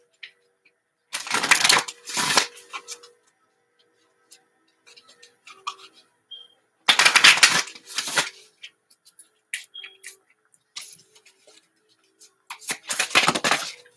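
Three bursts of oracle card shuffling, each a quick riffling flutter, separated by quiet pauses with small handling taps and rustles in between.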